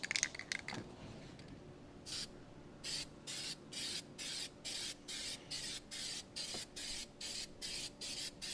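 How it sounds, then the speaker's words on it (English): Car parts are spray painted in a paint booth: after a few handling clicks, a spray gun fires about a dozen short, evenly spaced hissing bursts, close and alone. "I'm gonna paint these. In my, this is my patented paint booth over here."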